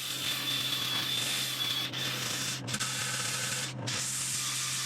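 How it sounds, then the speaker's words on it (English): Continuous close sanding of a segmented wooden dish on a spinning lathe, a steady abrasive hiss with a motor hum and two brief pauses in the rubbing. "So let's go sand."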